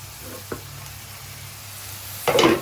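Brinjal sizzles softly in a pan, then a louder burst of frying hisses up near the end as tomatoes go into the hot oil.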